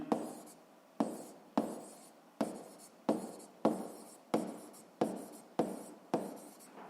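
A physics formula for pressure is written out during a seventh-grade lesson, with steady, evenly spaced scratchy strokes that repeat roughly every half second, close and alone.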